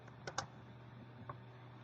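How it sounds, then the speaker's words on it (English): A few quick computer keyboard keystrokes while typing code, sparse clicks near the start and one more a second later over a low steady hum, no speech. "So we will type var."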